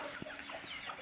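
Tethered roosters clucking in a yard during hot summer weather, soft brief clucks close by over faint background noise.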